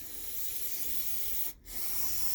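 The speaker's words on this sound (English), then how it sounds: "So next, spray down the carburetor itself on the inside." Steady hissing spray of carburetor cleaner aimed into a lawn mower carburetor, loud and continuous, with a brief break near the end before the spraying resumes.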